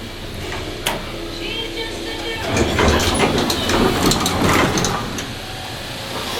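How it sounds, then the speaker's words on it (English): The motor-generator set of a 1960s CEDER Traffic-Master traction elevator runs with a steady mechanical hum, joined by a rattling, clattering rhythm partway through. "You can hear the generator."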